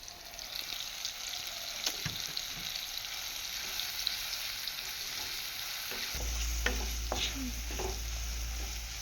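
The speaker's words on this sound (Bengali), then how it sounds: "কিছুক্ষণের জন্য কষিয়ে নেব মশলাটা কষানো হয়ে গিয়েছে" Ground cumin, coriander, Kashmiri chilli and turmeric fry with tomato in a pan, a close steady sizzle broken by a few spoon scrapes and knocks, with a low hum rising near the end.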